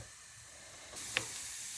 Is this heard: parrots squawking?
no